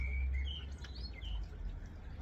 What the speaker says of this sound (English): I just love the sound of that blackbird.